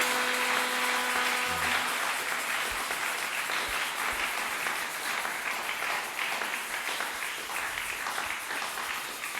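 A church congregation applauds during a service with sustained, dense clapping from many hands that stays loud and steady throughout.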